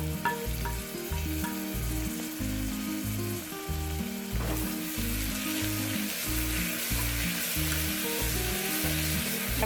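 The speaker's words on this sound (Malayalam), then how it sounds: "തക്കാളിയും കൂടി ചേർത്ത ശേഷം ഇത് നന്നായിട്ടൊന്ന് വഴറ്റാം" Onion, tomato and masala sizzle and fry steadily in a pan for a cooker biryani, a quiet constant frying hiss with occasional stirring, under a low, loud rhythmic hum that runs throughout.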